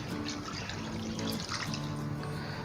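Water being poured from a tap over chicken wings sitting in half a cup of vinegar, a steady close splashing and trickling stream running without a break and with no talk.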